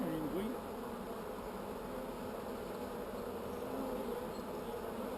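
Dense, steady swarm of agitated bees buzzing continuously at close range around a Layens hive, a loud unbroken drone holding level throughout.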